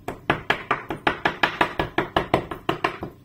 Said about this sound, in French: Et je le hache vraiment finement.